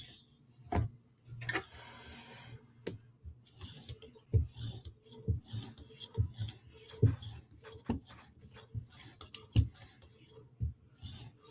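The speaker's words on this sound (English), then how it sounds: "Just going to give it a quick strop, clean it up." A Hinderer knife edge is stroked across a strop to pull off the burr, giving soft, scattered rasping rubs with small clicks, close by and fairly quiet, spread irregularly with no talking.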